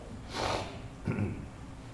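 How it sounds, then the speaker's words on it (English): Two quiet sniffles from a speaker with a cold, one breathy and one short and lower, close to the microphone against a soft hiss. "Sorry, I'm so sniffly and coughing."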